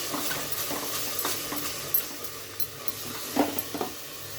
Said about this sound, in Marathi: इथे टोमॅटोची पेस्टही घालते मी आणि ही तेल सुटेपर्यंत आपण फ्राय करून घेऊया